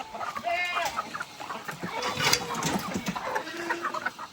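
Chickens clucking and squawking close by, steady chatter with some busy rustling and a brief voice mixed in.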